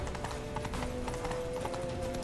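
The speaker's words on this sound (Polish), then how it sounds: "No zasuwaj Ciri, bo jak wystraszą konia to spadniemy i będzie kicha." Horse hooves clip-clop steadily in the Witcher 3 video game, a quick, even rhythm of soft thuds under a low ambient game drone, moderately faint, with no talking.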